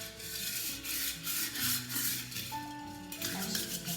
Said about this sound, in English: Let me scrub. Clean the bottom thoroughly first.